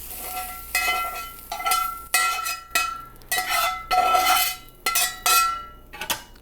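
A utensil stirs and breaks up eggs in a pan for breakfast burritos, giving repeated metallic clinks and scrapes in uneven bursts over a faint sizzle.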